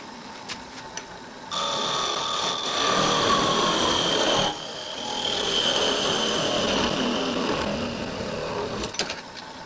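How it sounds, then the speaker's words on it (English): A parting tool cuts into spinning wood on a lathe, a steady close scraping rasp with a whining tone that holds for several seconds, pauses briefly, then resumes before tapering off. "I think I'm just going to part it with the parting tool."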